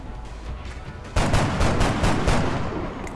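A rapid burst of reaction-shot gunfire in XCOM: Enemy Within erupts after a second of low rumble, shots rattling in quick succession at close range, then trailing off.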